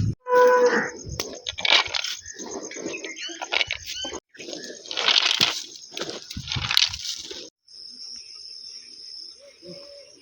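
Calves and buffalo on a farm at feeding time, lowing in repeated moos amid close rustling and handling noises, with a steady insect-like drone in the background.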